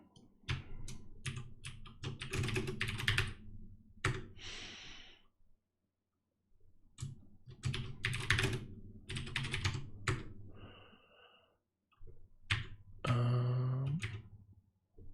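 Bursts of rapid typing on a computer keyboard, close and fairly quiet, in clusters separated by pauses, with audible breathing and a sigh near the end; no speech.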